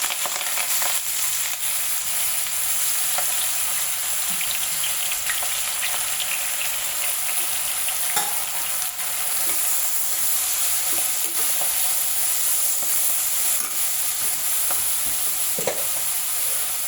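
Green chillies, curry leaves, onions and coriander crackle in hot oil, a loud, dense and unbroken sizzle with occasional stirring clatters throughout.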